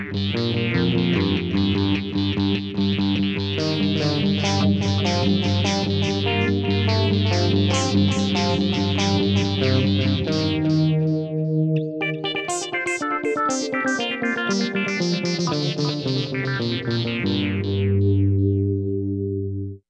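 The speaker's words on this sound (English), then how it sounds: "On this patch, I can control the synthesizer filter with my pick attack" An electric guitar runs through a Roland GR-55 guitar synthesizer, each picked note triggering a bright filter sweep controlled by pick attack in a rapid, pulsing sequence that continues without pause.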